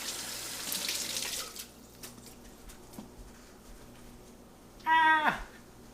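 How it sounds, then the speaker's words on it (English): Tap water runs in a kitchen sink as hands are washed during breakfast-burrito cooking, a soft near hiss lasting about a second and a half before stopping, later followed by a brief voiced exclamation. "And again, wash your hands off."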